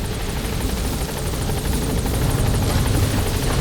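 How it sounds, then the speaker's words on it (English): A helicopter touching down in the video game Metal Gear Solid V: The Phantom Pain, its steady rotor thump and engine roar loud and constant throughout, close by with no voices over it. "the chopper's touching down"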